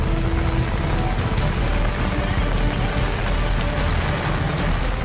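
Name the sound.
heavy rain during flood in Rajkot, Gujarat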